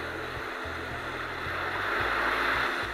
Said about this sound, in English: So let me just give you an example by running the ocean sounds right here.